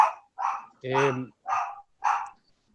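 A dog barks five times in a quick, evenly spaced series, sharp and fairly close, with silence between each bark.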